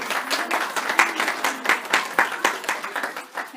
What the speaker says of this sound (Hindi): आप लोग चाहेंगे सभी लोग तालियां बजाएंगे.